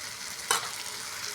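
Coconut paste is stirred into a frying onion and tomato masala in a pan, a constant close sizzle with one brief scrape or plop of the paste going in, and no talking.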